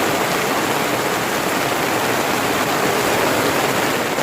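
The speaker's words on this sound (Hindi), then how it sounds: "तो आपको वो व्यू दिखाता हूँ कि इधर कितने ज़ोरों में बारिश होती है" Heavy monsoon rain pours down steadily near Bahuli Dam, a dense, unbroken roar of falling water with no pauses, loud and close throughout.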